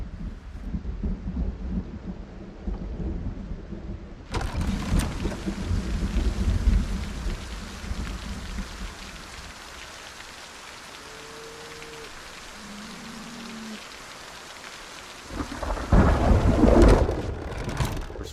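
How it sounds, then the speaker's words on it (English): A loud thunderstorm with steady rain, two heavy thunder rumbles booming up and rolling away between long spells of hissing rainfall, heard in a cabin in the woods. "very, very loud thunderstorm."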